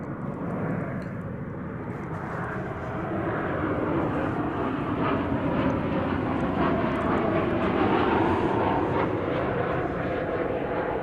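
A passenger jet on the Santa Ana, California flight at DFW Airport, its engines roaring loud and steady and swelling slightly as it passes close by, with no voices.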